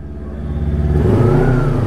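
A motorcycle engine rumbles close by as the bike is brought in to park, its low drone swelling and revving louder toward the end.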